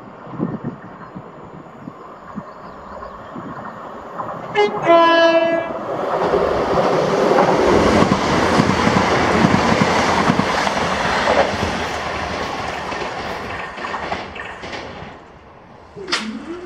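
A ScotRail passenger train sounds its horn and rolls past Blair Atholl station, its loud rumble and wheel clatter swelling near and steady before fading as it moves away.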